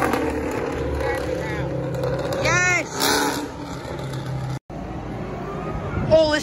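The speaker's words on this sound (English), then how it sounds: "Nothing like the fresh noise of a V8 Camaro in the morning." A V8 Camaro engine rumbles loudly at a supercar meet, rising in brief revving surges with a short dropout, while voices and crowd noise carry on around it.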